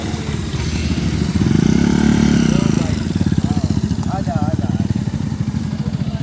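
A Bajaj Pulsar NS200 motorcycle engine rumbles loud and close with a steady, throbbing exhaust note that swells briefly and then settles into a rapid, even putter.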